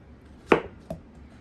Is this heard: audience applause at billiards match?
no